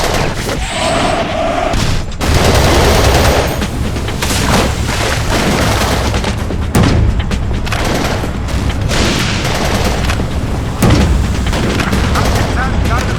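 Heavy gunfire and explosions from the Battlefield 2: Modern Combat video game, with dense, continuous loud bursts, booms and rattling shots throughout, and radio-style voices speaking over the battle.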